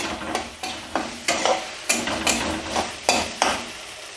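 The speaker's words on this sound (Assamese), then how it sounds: "এই গোটেইখিনি একেলগে দি ভালদৰে লৰাই অলপ সময় ভাজি ল'ব লাগিব।" Cumin and Kashmiri chilli powder are stir-fried in a pan. About ten evenly spaced scraping strokes of a spoon sound against the pan over a soft, quiet sizzle, with no talking.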